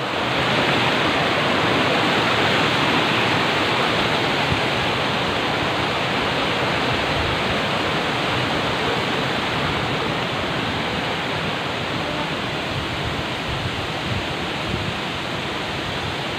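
Boroitoli waterfall roars in a dense, constant rush of falling water, loud and close, with no voices over it.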